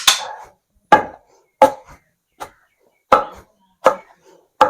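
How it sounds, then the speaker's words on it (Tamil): Peanuts and jaggery made from naturally grown sugarcane being pounded in a stone mortar: seven sharp, close thuds fall at irregular intervals of roughly half a second to a second, each decaying quickly into silence, with no talking. "ரெண்டையும் சேர்த்து இடிச்சுக்கணும், நல்லா கலக்குறாங்க"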